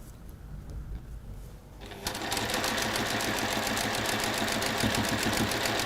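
A sewing machine stitches a straight seam across quilt triangles, starting after a quiet moment and then running as a rapid, steady mechanical chatter at close range.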